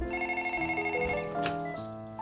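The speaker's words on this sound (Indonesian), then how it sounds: "Ryuzo mendapat telepon dari penipu yang mengaku bahwa Ryuhei telah menghilangkan uang perusahaan sebesar 5 juta yen" A telephone rings with a sustained electronic tone pattern, steady and fairly loud, as a Japanese grandfather receives a call from a scammer; the ringing continues unbroken with no talking.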